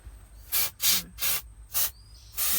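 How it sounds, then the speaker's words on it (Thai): Aerosol spray is sprayed in short blasts at a snake near an old car: about five separate hissing bursts of roughly half a second each, close and fairly loud, with quiet gaps between them. "คุณพ่อก็ไล่ฉีดสเปรย์นะคะ"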